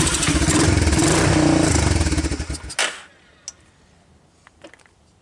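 A Honda TRX250 ATV engine, flooded, runs loud and rough with revving and clatter for nearly three seconds, sputters and dies, then a few faint ticks and knocks follow in near silence.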